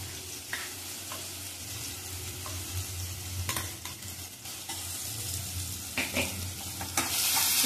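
Satputi monsoon greens sautéed with a ground paste of coconut, coriander, cumin and oil, giving a soft steady sizzle with intermittent stirring scrapes and clinks of a utensil against the pan, moderately close and without talk.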